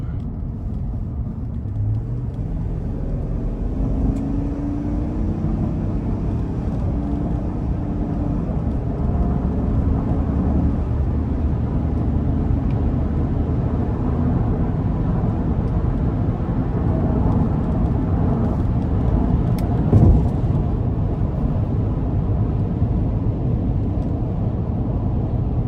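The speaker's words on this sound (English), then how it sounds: "we're just gonna give it a little throttle getting on the interstate" A 2021 Chevrolet Tahoe RST with the 5.3 liter engine accelerating onto an interstate, a steady deep rumble of engine and road noise from inside the cabin with a slowly rising engine tone.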